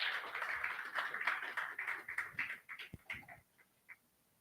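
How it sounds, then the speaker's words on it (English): Audience applause at a ReactPlay community meetup, a dense wash of clapping from a room of people that holds steady, then thins out into a few scattered late claps before fading away. "Please give it a round of applause for him"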